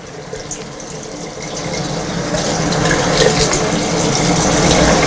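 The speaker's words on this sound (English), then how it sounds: "Then you take some water in your hands and go over your whole face, including forehead and chin." A tap runs steadily while water is cupped in the hands and splashed over the face, a continuous splashing hiss that grows slightly louder toward the end, with no talking.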